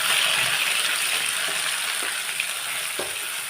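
Onions frying in a hot pan at the start of a broccoli sabji, a steady close sizzle that holds through the whole stretch, with a few soft stirring clicks and no voices.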